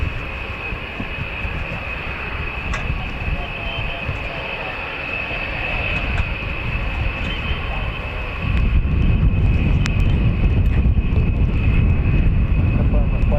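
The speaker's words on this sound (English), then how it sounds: "We have a B-52 now." A USAF B-52 Stratofortress bomber departs RAF Fairford, its engines a broad, steady roar that swells louder near the end, with people talking over it.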